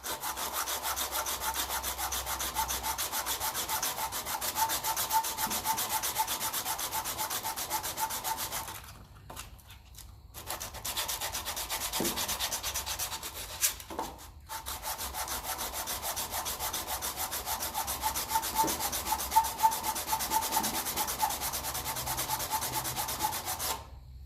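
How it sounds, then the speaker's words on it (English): A sanding block fitted with fresh sandpaper rubs steadily back and forth on a surface of a Ferguson TE20 diesel tractor, loud and close, with two short pauses partway through. "Nice new bit of sandpaper on the sanding block."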